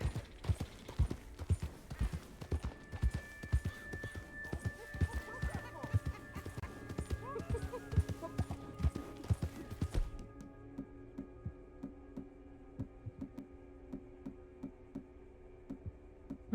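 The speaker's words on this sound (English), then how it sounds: "What the hell's happening to my horse?" Hooves clip-clop in a rapid, steady rhythm as a horse moves along in Red Dead Redemption 2, loud and close, then drop to quieter, sparser steps over a faint mechanical ticking.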